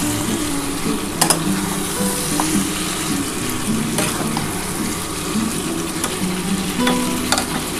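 Mutton pieces with potato are stir-fried in oil in a pot, a steady dense sizzle running throughout with scraping stirring strokes and occasional clinks, close and loud.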